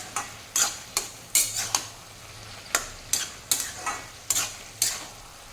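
Fish head and cabbage curry with potatoes cooks over high flame as a spoon scrapes and stirs it in a pan with about ten sharp, evenly spaced strokes over a faint sizzle.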